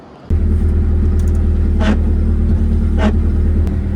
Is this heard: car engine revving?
yes